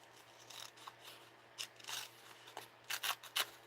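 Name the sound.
cutting with scissors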